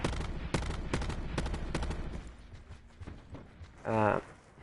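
Rapid gunfire in Black Ops 4 Blackout, a burst of sharp repeated shots up front, then scattered distant pops, with someone talking over it.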